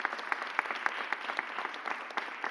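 An audience at a mayor's press conference applauds, a faint, distant patter of clapping with irregular sharper claps, steady for the whole stretch.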